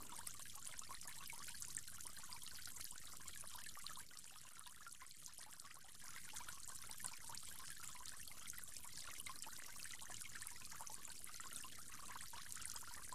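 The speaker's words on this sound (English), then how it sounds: "From there, you'll go on to rinse your mouth 3 times." Steady stream of running water from a tap during ablution, poured while the mouth is rinsed, a continuous close splashing trickle with no voices.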